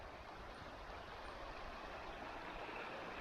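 A small river in the Scottish Highlands flows past with a soft, even rushing hiss, steady and fairly distant, with no other sounds over it.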